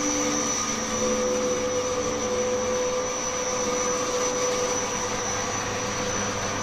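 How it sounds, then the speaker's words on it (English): A lathe machining a BSA Bantam electronic-ignition rotor, a steady loud whine with a high tonal ring and constant motor drone throughout, unbroken and close. "we'll go through on the lathe and see how Justin makes one"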